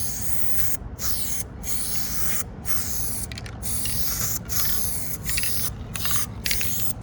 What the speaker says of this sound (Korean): 그라데이션 같은 경우는 스프레이를 기울인 다음에 여기서 한번 뿌려주는 거예요